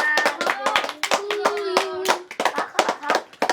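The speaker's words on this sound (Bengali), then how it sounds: "হাততালি দাও হাততালি দাও হাততালি দাও" Hands clap repeatedly at a child's fourth birthday party, a quick uneven patter of claps mixed with a voice and adult talk close by.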